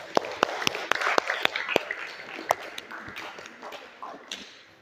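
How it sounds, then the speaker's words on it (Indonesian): Applause from a classroom audience after a group presentation, a loose scatter of sharp claps, strongest at first and thinning out, with voices talking underneath. "Kasih aplaus."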